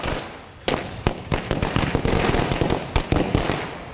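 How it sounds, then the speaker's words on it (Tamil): Firecrackers burst at a DMK party celebration outdoors in Tamil Nadu, a rapid irregular string of sharp loud cracks and pops close by, with a brief lull before the barrage starts. "தமிழகம் முழுவதும் திமுக தொண்டர்கள் பட்டாசு வெடித்து இனிப்பு வழங்கி கொண்டாட்டத்தில் ஈடுபட்டனர்"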